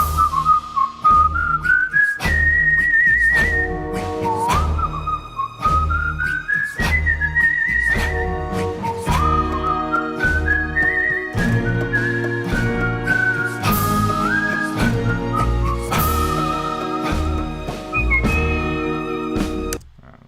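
A whistled melody in an arrangement, bright gliding phrases rising and stepping over a full backing of sustained instruments and drums, prominent and continuous throughout without any talking.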